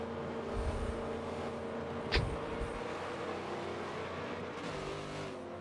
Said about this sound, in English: hop in the Corvette to lead the field around